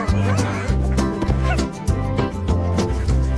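A puppy's yipping barks repeat in a steady rhythm over loud upbeat children's song music, with singing voices mixed in.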